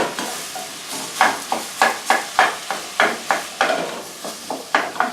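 Ground beef mince browning in a hot pan, sizzling steadily while a spoon stirs and breaks it up in repeated scraping strokes, close and fairly loud, with no talking.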